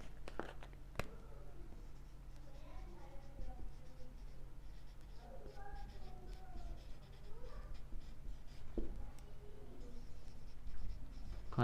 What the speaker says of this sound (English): Candela, let me write it here.